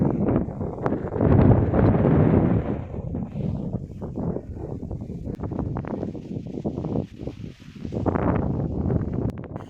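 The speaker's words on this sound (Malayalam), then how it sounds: "കാറ്റ് പറയാതിരിക്കാൻ വയ്യ ഒരു രക്ഷയില്ലാത്ത കാറ്റാണ്" Strong wind buffets the microphone in loud, continuous gusts, a heavy roaring rumble that swells and eases without letup.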